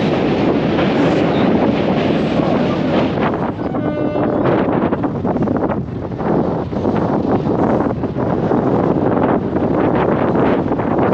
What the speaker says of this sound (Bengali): এখন কিন্তু আমাদের ট্রেন এগিয়ে যাচ্ছে রামনগর স্টেশনের দিকে